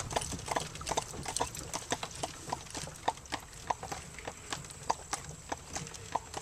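Horse hooves clip-clopping steadily as it pulls an Amish buggy along a road through farm valley, a close, regular rhythmic clatter of many hoofbeats continuing throughout.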